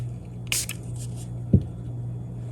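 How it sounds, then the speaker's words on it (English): Alcohol spritzed from a spray bottle over a resin tumbler topper, a short hissing burst followed by a fainter puff, set against a steady low hum, with a small knock partway through. "I'm going to spray some alcohol on it just to pop some surface bubbles."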